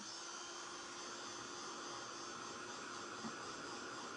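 A steady, even whoosh of a hair dryer blowing continuously at close range on a napkin craft project, with no pauses and no voices.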